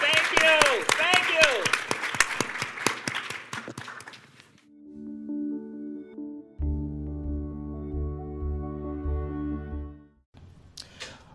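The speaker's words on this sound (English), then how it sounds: "Hand clap for yourself, hand clap for the panelists" Applause for the panelists at a neighborhood development leadership conference panel, a burst of clapping lasting a few seconds with voices mixed in, then giving way to steady music.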